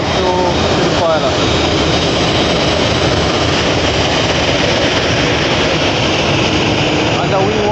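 Airplane engine at an airport ramp while the aircraft taxis in, a loud, steady, broadband roar and whine filling the whole stretch without letup.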